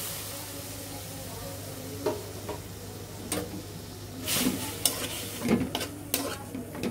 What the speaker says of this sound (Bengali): এভাবে চিংড়ি মাছগুলো আমরা ভালোভাবে ভেজে নিব।